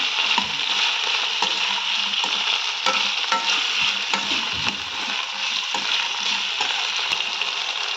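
Chopped vegetables and brinjal fry in a pan for brinjal rice, a steady close sizzle with stirring scrapes and clatter running throughout, no voices.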